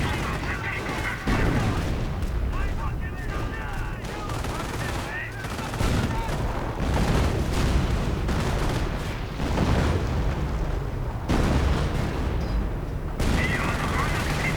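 Assault guns in a World War II strategy video game firing on British infantry: rapid, repeated gunfire bursts and booms continuing throughout, dense and loud, with someone talking over the battle.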